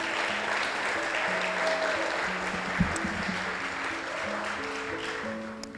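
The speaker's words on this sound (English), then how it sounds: "So let's give everyone a round of applause." Guests at a summer social for a family resource center applaud, a broad steady patter of clapping spread across the room, with a sustained musical tone and a brief thump mixed in.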